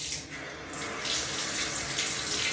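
Water runs from a tap in a bathroom where a shower curtain is being changed, giving a steady, close hiss of pouring and splashing that continues without pause.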